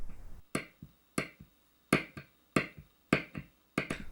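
A humbucker pickup on a Les Paul guitar is tapped with a screwdriver, sending seven sharp percussive clicks through the amplifier at a steady, roughly half-second rhythm, each followed by a brief decaying ring.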